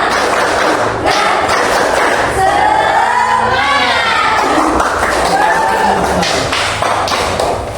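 Standing students in a classroom perform a rhythmic spirit clap, loud patterned claps and thumps mixed with group chanting voices, energetic and close throughout.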